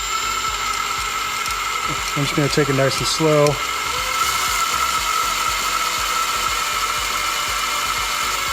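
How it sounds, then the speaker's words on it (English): A 4mm bit drills out a rivet in an HP DPS-1200FB server power supply, a steady high whine of a drill running throughout, with a brief burst of grinding chatter midway and someone speaking over it. "So that we can drill this out."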